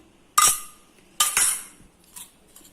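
A spoon mixes omelette egg mixture in a bowl, two sharp metallic clinks against the rim followed by fainter scrapes and taps, close and with no talk.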